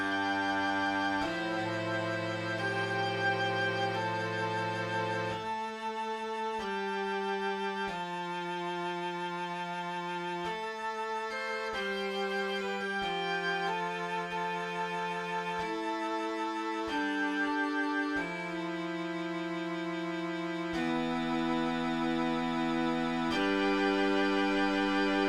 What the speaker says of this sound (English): I moved onto another string section, which had more block chords and was less of a melodic feature and more of a harmony